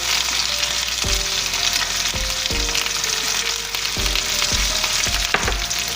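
Potatoes seasoned with salt, black pepper, paprika, garlic powder and onion powder sizzle steadily in a pan, with repeated scraping tosses of a utensil at irregular intervals over the constant frying hiss.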